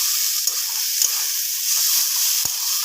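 Bitter gourd with turmeric frying in hot oil makes a loud, dense, continuous sizzle up close, with a few faint clicks of stirring.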